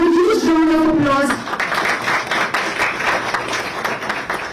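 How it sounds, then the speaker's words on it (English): Applause from an audience at a SEBI inauguration ceremony for a new office, starting after a brief sustained tone and carrying on as steady, moderately loud clapping. "Can we have a huge round of applause?"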